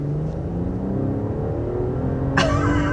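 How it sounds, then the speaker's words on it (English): A luxury sedan accelerates hard, its engine drone rising steadily in pitch as heard from inside the cabin, loud and close, with a sharp burst of noise near the end. "put your foot down and this thing comes alive"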